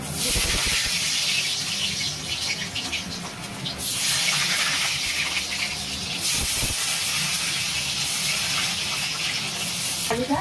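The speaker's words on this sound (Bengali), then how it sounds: "প্রথমে আমি তেল দিয়ে আমি আলুটাকে ভেজে নেবো" Potatoes fry in hot oil in a home kitchen, giving a loud, continuous broadband hiss that surges and eases a few times, with occasional soft knocks in the pan.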